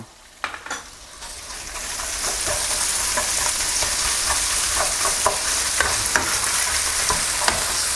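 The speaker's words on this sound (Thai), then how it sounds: "ผัดให้มีกลิ่นหอมเลยครับ พอมีกลิ่นหอมดีแล้ว ให้เราใส่หมูสับลงไป 2 ขีดครึ่ง" Minced pork stir-fries in a pan with pounded chili and garlic for crispy holy basil, making a loud, continuous close sizzle dotted with clicks and taps of the spatula against the pan.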